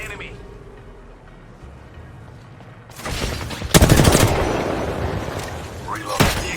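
Gunfire in Apex Legends, rapid loud bursts of automatic shots cutting in after a quieter stretch, with impacts and game effects layered over the fire.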